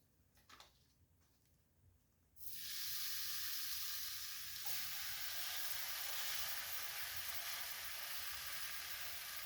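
Ham dropped into a hot carbon steel skillet on a wood stove bursts into loud, steady sizzling after a couple of seconds of quiet, a bright frying hiss that holds strong to the end.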